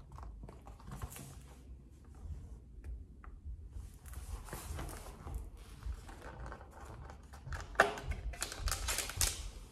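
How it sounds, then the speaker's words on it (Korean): Cardboard door of a T2 tea advent calendar being torn open by hand, a run of crisp papery rips and tapping rustles, close and moderately loud, with louder tearing bursts near the end. "1번을 한번 뜯어볼게요."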